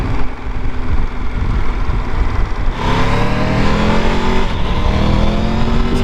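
A Triumph Tiger 1200 motorcycle engine revs loudly and steadily up through its range, with quick shifter gear changes breaking the rising drone, close and continuous with no talk.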